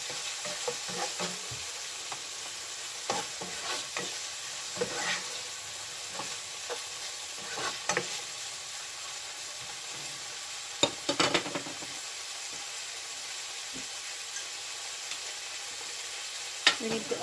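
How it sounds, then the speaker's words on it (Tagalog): Beef sizzles steadily in a pan for beef fried rice, a close, continuous frying hiss broken by scattered scrapes and clanks of stirring, with no one speaking. "We need to cook the beef."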